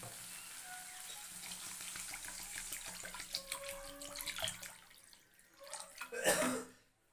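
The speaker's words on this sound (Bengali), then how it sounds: "এবার জলটা দিয়ে দিই।" Water poured into a pan of simmering fish curry made with ground coriander leaves and spices fried until oil separates, giving a running splash and sizzle over steady kitchen noise, with a louder burst near the end.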